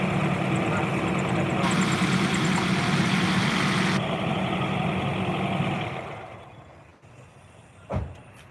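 A Honda CR-V's engine idles with a steady low rumble, then shuts off near the end, leaving quiet and a single soft thump.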